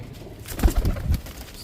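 Border line pigeons in a breeding loft give a few soft, low coos that rise and fall over about a second and a half, close by and unaccompanied by any talk.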